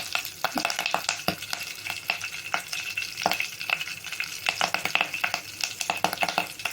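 Curry leaves sizzle and crackle loudly in hot tempering oil for mudda pappu, a dense continuous frying hiss broken by sharp pops and spits, close up with no talking.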